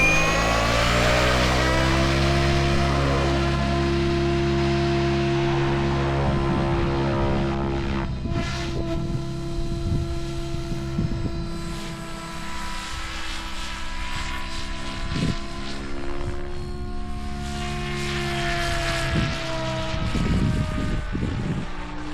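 A steady, droning engine whine with strong harmonic tones holds throughout as an RC helicopter flies nearby, its pitch shifting slightly as it moves.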